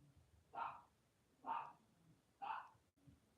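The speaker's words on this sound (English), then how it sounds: "You hear Miss Molly barking and growling." Indoors, a dog barks three times in a steady rhythm, about a second apart. Each bark is a clear, moderately loud burst over a quiet background.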